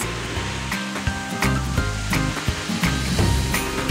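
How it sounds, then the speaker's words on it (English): Wet, slushy concrete pours from a rotating mixer truck drum down its chute, a loud continuous rushing wash with bursts of splashing and low rumble throughout. "pour the concrete exactly where the builders need it"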